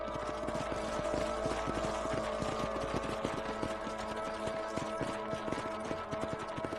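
Horse hooves clip-clop in a steady, rapid rhythm in the video game Red Dead Redemption, close and continuous, over a low mechanical hum.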